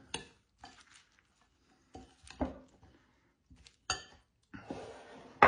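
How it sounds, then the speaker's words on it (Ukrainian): Chopped vegetables for a shrimp salad being stirred in a bowl, heard as a few scattered clinks and scraping swishes separated by quiet gaps, with a louder, longer rustle near the end. "Покришені овочі перемішуємо"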